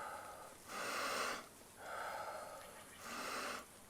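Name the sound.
deep full breath, Wim Hof method breathing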